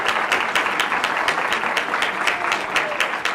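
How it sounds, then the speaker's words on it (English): Steady audience applause fills a school board meeting as a student team, their sponsor and principal are honored, dense clapping throughout with a murmur of voices underneath. "Round of applause for her and our principal"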